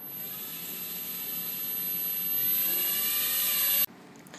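Hubsan X4 v2 quadcopter motors spinning up under throttle, a close high whine that climbs steadily in loudness for several seconds, then cuts off abruptly.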